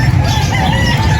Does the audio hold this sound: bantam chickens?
yes